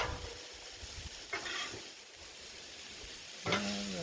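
Creamy jambalaya sizzling on a Blackstone griddle while being stirred, a steady loud hiss with two short bursts of scraping and a louder sizzle near the end.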